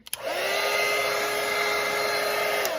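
A hair dryer blows on watercolour paint, with a click and then a steady, close, even whir that holds for a few seconds.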